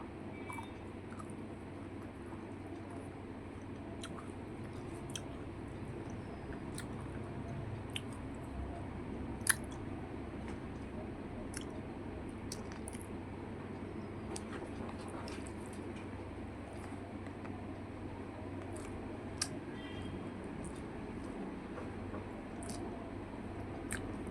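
Someone eating a fish tail chews up close with soft, wet squishing and small crunchy bites, quiet and steady over a low background hum with no talking.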